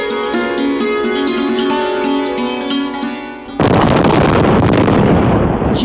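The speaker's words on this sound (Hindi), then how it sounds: "ये बम का धमाका कैसा?" A loud, sudden bomb blast in a Hindi radio drama, erupting as a broad roaring burst that cuts off a music passage and then sustains as a dense rumbling wash to the end.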